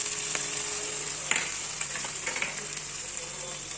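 Spice paste with turmeric, chili powder and a splash of water sizzles steadily in a pan for potol dorma, with occasional scraping stirs over the constant close hiss.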